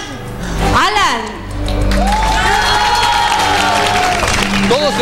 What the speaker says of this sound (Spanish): Todos están aplaudiendo.